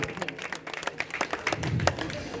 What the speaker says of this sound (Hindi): आप सब जोरदार तालियां बजाकर अभिनंदन करेंगे बैठे बैठे अपने स्थान पर